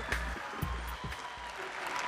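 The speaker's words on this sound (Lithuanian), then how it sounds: "Sutikite plojimais." Audience applause greeting a singer walking onto a stage, a steady wash of clapping lasting a couple of seconds at moderate loudness with no voices over it.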